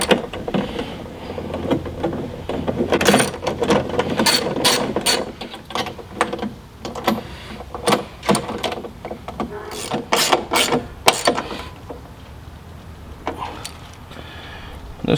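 A hand ratchet clicks in quick uneven bursts as T30 bolts are tightened on the frame of a Mopar tailgate table, with close handling knocks between the bursts.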